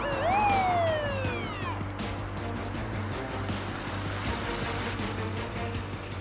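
A wailing siren sweeps down in pitch and fades within the first two seconds, leaving a steady low engine rumble.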